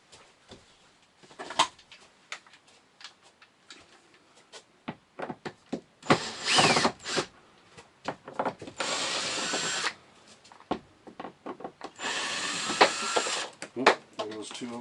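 A power drill backing out screws on an RV during a WiFiRanger cable install, sounding in several whirring bursts of a few seconds each, close and loud, between clicks and handling noises, with someone talking in the pauses.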